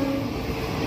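A passenger train runs along the Araku line, a steady loud rumble of wagons with a sustained horn tone early on, continuous and close throughout.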